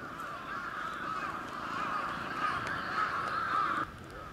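Crows caw steadily and fairly loudly throughout, their harsh calls overlapping in a continuous chorus with no talking, stopping abruptly near the end.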